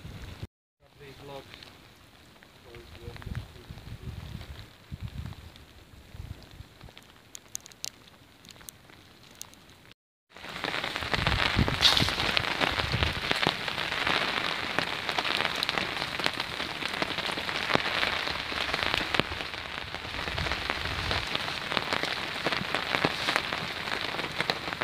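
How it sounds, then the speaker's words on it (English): Steady heavy rain hammering down at a wild camp, a dense hiss that quiets briefly then returns louder and close, drumming without a break. "as you can hear, it's chucking it down."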